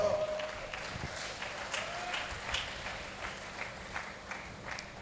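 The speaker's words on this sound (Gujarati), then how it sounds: "હવે તાળી પાડો." Scattered applause from a crowd at a religious satsang gathering, steady and moderately loud, with faint voices mixed in underneath.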